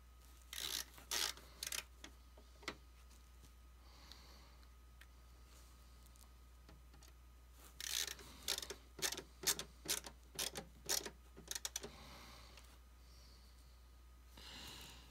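A screwdriver works Torx screws out of the back of a PlayStation 4 Pro console, giving faint, close scraping and turning bursts in two short clusters separated by quiet gaps.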